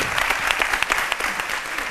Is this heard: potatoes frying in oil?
no